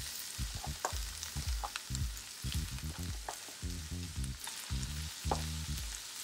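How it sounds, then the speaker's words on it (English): Shallots cook down in a hot pan, producing a steady, fairly quiet sizzle with light spattering and crackle. "Just gonna allow those shallots to cook down just a bit."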